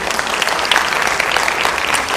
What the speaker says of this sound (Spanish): denle un aplauso al Señor, ese es amor.